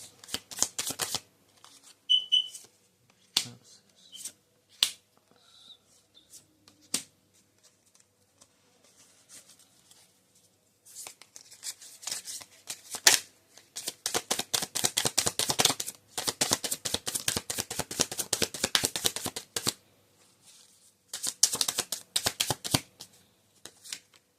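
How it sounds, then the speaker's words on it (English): Tarot cards are shuffled by hand in scattered riffles and slaps at first, then in a long, dense run of rapid crisp flutters, close and clear with no talking. "Let me get you some more cards."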